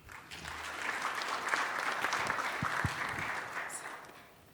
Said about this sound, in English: Give them another hand of applause, please.